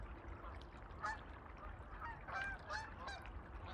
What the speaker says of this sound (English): A bunch of Canada geese go by here.